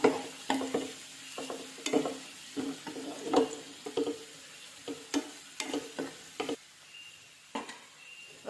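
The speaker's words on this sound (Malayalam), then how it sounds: "ഒന്ന് ഇളക്കി കൊടുക്കാം." Finely chopped onions and curry leaves sizzle in a pan while a spoon stirs them, giving a steady low frying hiss broken by frequent scraping knocks and clinks against the pan, close up and with no talking.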